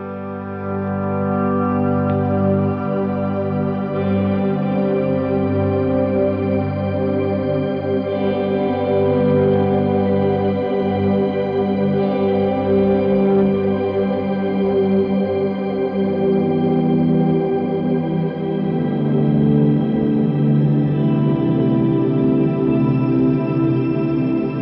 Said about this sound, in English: pick one of my shimmers and activate it